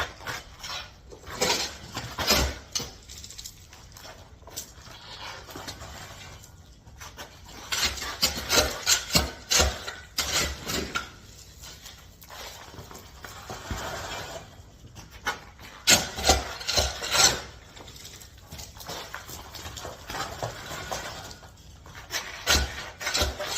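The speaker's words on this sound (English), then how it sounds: "So I'm gonna start backfilling with dirt, trying not to get any dirt inside of those" A shovel scrapes and rasps through dirt while backfilling around pipes, irregular scoops and gritty rubbing strokes coming in uneven clusters with quiet gaps between.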